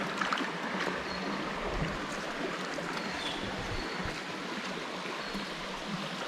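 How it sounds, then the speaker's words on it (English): Dogs wading and splashing in a shallow rainforest stream at a Babinda farm stay, a continuous close rush of moving water with scattered splashes and no talking. "We're just going to wade into the water so the dogs can have a bit of a splash around."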